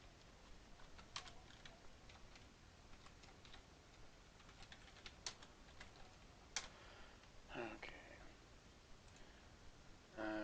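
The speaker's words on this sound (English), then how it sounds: "now let's go ahead and type in a password." A password is typed on a computer keyboard while signing into a Windows Server virtual machine. Light, quick key clicks come in irregular bursts with short pauses and a few louder taps, close and quiet, with no speech.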